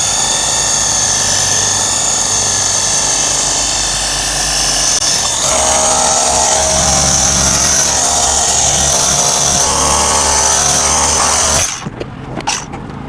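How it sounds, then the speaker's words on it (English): A power sander spot sanding automotive paint with 1500 grit at speed 3, a loud steady whirring hum that shifts pitch midway, then cuts off near the end, leaving a few light clicks and rubbing sounds. "we're gonna start with 1500. And then, usually I like to sand like at a speed 3"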